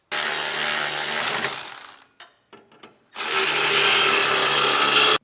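Socket ratchet snugging an air spring bracket bolt on a 2022 Ford F-series truck: dense, loud ratcheting clicks run for about two seconds, pause for a few brief clicks, then resume strongly.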